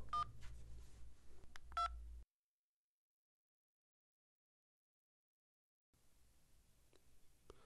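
A telephone number is keyed in as a short run of DTMF tones with button clicks, followed by a few seconds of silence and then faint room noise.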